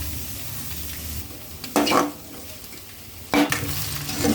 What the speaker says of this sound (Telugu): ఆనియన్స్ క్యాబేజీ క్యాప్సికమ్ వేసి ఇలా ఫ్రై చేస్తున్నారు